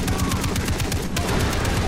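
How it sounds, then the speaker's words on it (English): Rapid automatic gunfire from a mounted weapon in the Far Cry 3 video game, a loud continuous rattling burst that runs almost unbroken through the clip with a brief dip near the middle. "I'm just gonna go ahead and shoot you."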